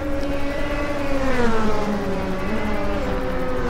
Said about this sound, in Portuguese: Carros da equipe Innovar saindo dos boxes